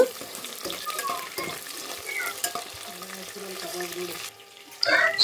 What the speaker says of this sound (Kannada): ಸೊ ಹಾಕ್ಕೊಂಡು ಚೆನ್ನಾಗಿ ಫ್ರೈ ಮಾಡ್ಕೊಳ್ಳಿ